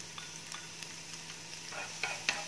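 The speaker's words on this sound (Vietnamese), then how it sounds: "các bạn sẽ cho vào đây một chút tỏi băm nhé" Minced garlic sizzles steadily in hot oil in a frying pan, left over from browning pork, with a spatula scraping and ticking against the pan now and then.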